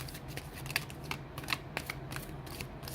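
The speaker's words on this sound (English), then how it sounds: "Let's pull a couple oracle cards for you." Oracle cards being shuffled by hand, a quick run of soft papery riffles and flicks lasting a few seconds with no talking.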